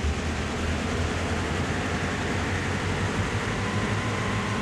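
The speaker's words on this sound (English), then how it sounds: "This train is gonna go faster because it's Amtrak." An Amtrak train running in Train Sim World, a steady, continuous rumble and drone of rolling stock and motor noise with no pauses.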